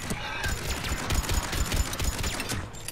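Mattock rifle gunfire in Mass Effect 3 during a firefight on Thessia, rapid repeated sharp shots in a dense volley over battle noise, loud and close throughout.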